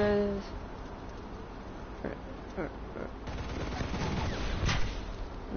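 Gunfire in the War Thunder video game, a muffled stretch of distant scattered shots and crackling bursts under a steady engine drone, growing busier toward the end.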